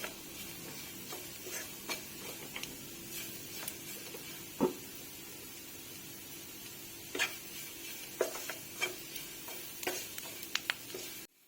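Chopped tomatoes cook in a pan of mushroom masala, with a soft steady sizzle and a few sharp clicks and scrapes of stirring, close by and fairly quiet, with no talking.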